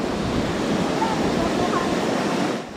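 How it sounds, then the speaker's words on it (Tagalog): Strong sea waves pounding the shore at a storm-hit resort at night, a loud continuous wash of surf mixed with wind buffeting the microphone, easing slightly at the end. "Alas 11 ng gabi, malakas ang alon dito."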